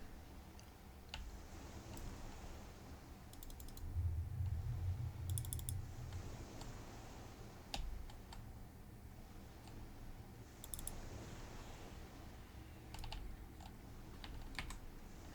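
Computer keyboard typing and mouse clicking during an EverQuest game session: steady close key taps with scattered sharp clicks and brief bursts of quick keystrokes, a low hum and some louder rustling in the middle.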